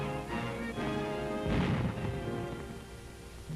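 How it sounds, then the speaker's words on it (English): Fierce artillery fire from Dutch batteries aimed at bridges in WWII film footage, a dense, continuous rumble of blasts with a heavy booming impact near the middle, loud and unbroken throughout. "By fierce artillery fire, Dutch batteries are still trying to destroy the bridges."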